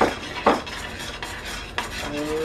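A spoon works fancy mixed nuts into a hot sweet-heat brittle mixture in a pot, producing a few close scraping strokes and light metallic clinks over a faint sizzle.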